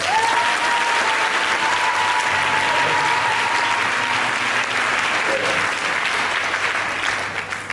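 A church congregation claps steadily and loudly throughout, a dense sustained wave of applause filling the room, with faint voices mixed in beneath.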